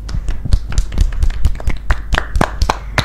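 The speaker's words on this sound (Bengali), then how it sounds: "সবার জন্য আরো একবার জোরে হাততালি হয়ে যাক" Loud, close hand clapping from a group in a studio show, sharp individual claps landing unevenly but steadily for a few seconds, with no talk over them.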